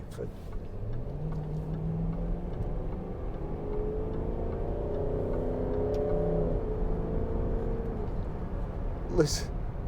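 A 2012 Range Rover's 4.4-litre TD V8 diesel engine hums and rises in pitch as the car accelerates, a smooth low rumble heard from inside the cabin.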